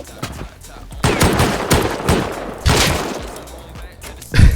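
Bursts of gunfire in the Rust survival game, several loud close shots and short volleys with a voice talking over the shooting.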